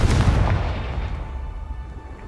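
Confringo explosion spell in Hogwarts Legacy, a single deep booming blast up front that rolls away into a long fading rumble, loud and close with no voices.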